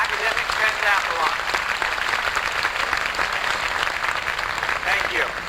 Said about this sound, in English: Won't you please give them a warm round of applause?